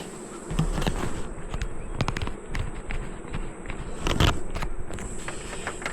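Honeybees drone and buzz steadily inside an opened hive during an inspection, close and continuous, with scattered sharp clicks and knocks from frames being handled.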